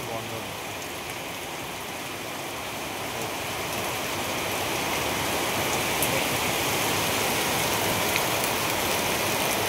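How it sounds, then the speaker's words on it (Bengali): Heavy rain pours onto a flooded street in New Town, a dense, continuous hiss that holds steady and swells slightly louder over the stretch, with no distinct breaks. "প্রচণ্ড বৃষ্টি হচ্ছে"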